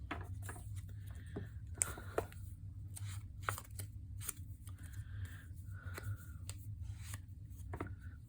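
Scissors cutting paper for a craft tag project, a string of short crisp snips and rustles close by, some quick and clustered, with no talking.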